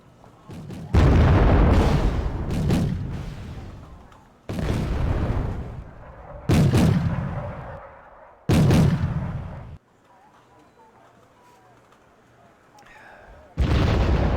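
Artillery in a war video game set in the Busan pocket fires in a series of heavy, booming blasts, each followed by a long rolling decay, with a quieter pause before a final shot.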